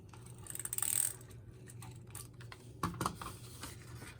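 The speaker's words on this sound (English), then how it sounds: "I'm gonna go ahead and just use a tape runner." Tape runner applying adhesive to paper for a junk journal: short, quiet clicking and ratcheting bursts, one near the start and another later, faint and close, with soft rustling between.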